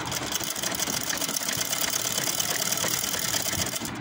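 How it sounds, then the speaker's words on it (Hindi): A sewing machine runs steadily, stitching a straight seam along a folded pleat on capri trousers. The whirring, rattling motor drone holds at a constant close level for the whole stretch, with no talk. "ये पाँव के हिसाब से बिल्कुल सीधा टांका लगाएंगे"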